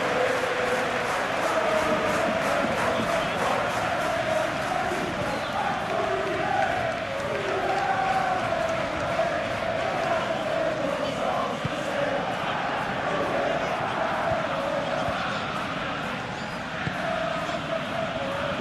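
Steady, dense roar of a football stadium crowd in a Premier League video game simulation of Liverpool against West Ham United, a continuous loud wash of massed voices with no breaks throughout.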